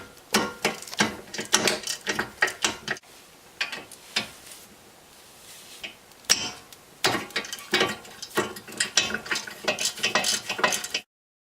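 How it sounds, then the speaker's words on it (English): A ratchet with a 16mm socket clicks steadily while a brake caliper carrier is removed from the front hub of a BMW E46 or E36, fast close bursts of ratcheting with a short pause midway. "Using a 16mm socket, remove the caliper carrier from the hub."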